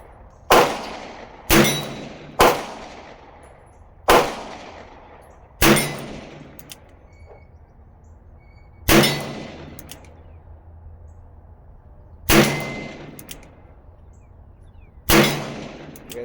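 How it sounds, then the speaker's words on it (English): A Ruger GP100 revolver fires .38 Special rounds single action, shot one-handed: eight sharp, loud reports spaced irregularly one to three seconds apart, each with a short ringing decay and quiet gaps between. "I'm going to do some single hand shooting. 38 Special, single action."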